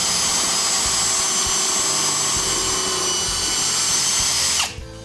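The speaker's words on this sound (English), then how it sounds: "we got the hole drilled" A power drill bores a hole in wood with a loud, continuous whirring drone that holds steady for several seconds and then cuts off abruptly.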